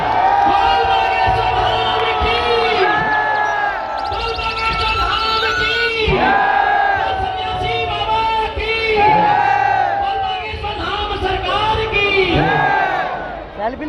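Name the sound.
large crowd applauding and cheering in welcome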